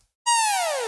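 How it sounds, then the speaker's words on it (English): A single synth note with a bright, buzzy sawtooth-like tone that glides steadily downward in pitch over under a second, close and loud with no voices. "If you have a synth that sounds like this"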